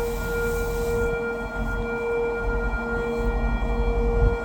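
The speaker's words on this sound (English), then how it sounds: "We got a siren working well there." A warning siren tested at a log-processing facility near the chipper booth holds a steady, sustained tone throughout, with a constant mechanical hum beneath and some rattling noise toward the end.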